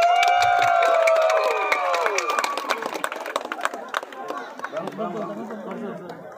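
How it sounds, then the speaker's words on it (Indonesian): An audience at an Indonesian village tourism award ceremony breaks into a crowd of scattered clapping and chatter. It follows a loud, ringing announcement over a hall sound system. "Beri tepuk tangan yang meriah sekali lagi untuk Desa Wisata Dewi Anom."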